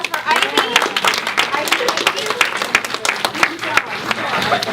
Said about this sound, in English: One last round of applause for Ivy.